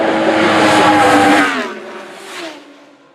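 A Superstock racing motorcycle at the Isle of Man TT roars past the grandstand, a loud high-revving engine note that peaks and then falls away quickly into the distance.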